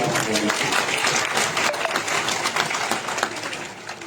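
Audience applause at a public gathering in Haryana, a dense, steady wash of many hands clapping close by, holding at an even level throughout with some voices mixed in.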